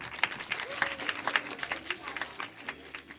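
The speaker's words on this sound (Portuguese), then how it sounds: "Uma salva de palmas para ele" Scattered applause from a modest crowd at a village jazz concert, steady and moderately loud, with voices talking underneath.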